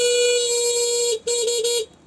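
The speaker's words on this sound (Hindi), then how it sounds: "मैं हॉर्न को चलाता हूँ और देखते हैं कि कितनी आवाज है इसकी।" Horn of a Yadea Ruibin electric scooter blares a loud, steady electronic tone for about a second, then breaks into a couple of short stuttering blasts before cutting off.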